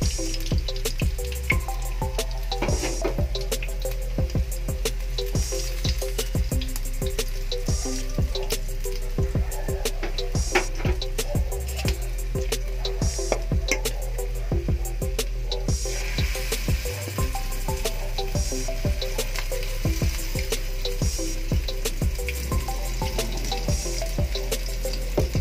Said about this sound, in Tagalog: Prito lang tayo ng prito.